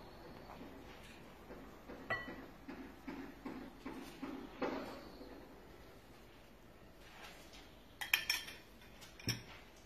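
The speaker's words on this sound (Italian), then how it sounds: "E poi continuo ad amalgamare il tutto benissimo." Ricotta cake batter with oil is worked together in a mixing bowl, giving quiet, uneven scraping with light clinks of utensil against the bowl, a few sharper knocks near the end.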